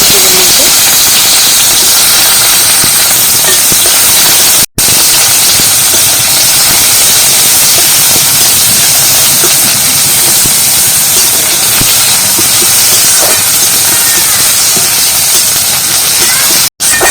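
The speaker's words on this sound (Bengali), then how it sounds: "তেলটা গরম হয়ে গেছে কেটে রাখা পেঁয়াজ দিয়ে" A loud, constant hiss of chopped onions frying in hot oil fills the whole stretch, steady and close, with a couple of brief dropouts and faint voices underneath.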